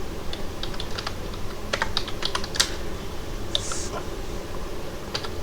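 Steady rapid clatter of a computer keyboard as Python code is typed, keystrokes in uneven bursts and runs, close and fairly loud over a constant background hiss.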